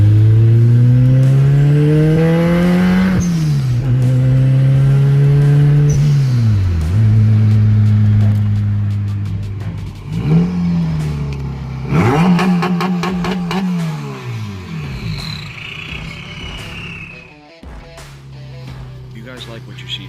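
Boosted Honda Civic EK engine pulling hard in a short run, with rising revs cut by repeated gear shifts and turbo whooshes, loud and close, with a voice talking now and then over it.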